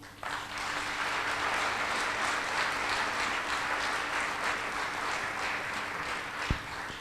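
Audience applause at a memorial concert, a dense, sustained crowd clapping that starts abruptly and holds steady throughout, full and fairly loud in a large hall.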